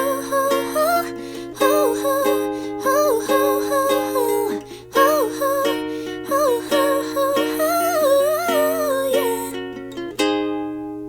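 A ukulele plays the outro of a song with chords and melody, with strummed chords carrying a picked melodic line in a lively rhythm, ending on a final ringing strum that fades, close and solo.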